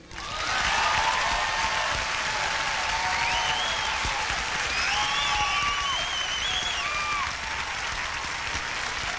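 Audience at the 1989 Berkeley Jazz Festival applauds bassist Buster Williams of the Timeless All Stars, a sustained, full round of clapping with some whistles and cheers riding on top, tapering slightly near the end.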